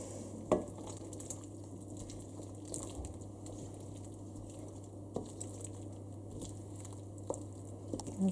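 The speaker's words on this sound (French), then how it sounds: "Il faut laisser fondre le beurre" Butter melting in a pan for pork in caramel sauce, with a low steady sizzle under a constant hum and occasional small taps and clicks of utensils.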